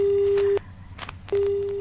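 Busy tone on a telephone line after the other party hangs up during a call: a steady tone in two clear bursts separated by a short gap, close and alone.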